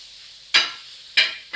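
Kothu parotta being mixed with salna in a hot pan, two sharp scraping stirs with a brief hiss of sizzling, close and loud with no talking.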